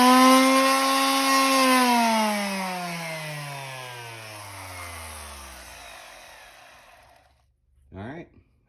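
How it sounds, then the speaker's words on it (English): An electric sander, plugged into a newly added outlet, runs with a whining motor tone that steadily drops in pitch as it winds down, followed by a short second burst near the end. "closest thing I found after turning the GFCI back on, or the circuit breaker back on, was a sander"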